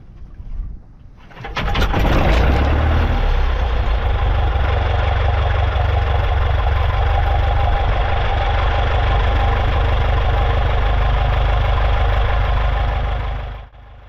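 1946 Piper J3 Cub seaplane engine cranking and catching after a brief start, then settling into a loud, steady, close idle rumble that runs to the end.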